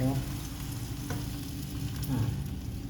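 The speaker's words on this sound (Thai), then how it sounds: "เราก็จะใส่น้ำล้างคุกลงไปค่ะท่านผู้ชม" Rice-washing water poured into a pot over pork belly for a northern Thai white cabbage curry, giving a steady rushing, sizzling wash of liquid that stays loud and close for the whole stretch.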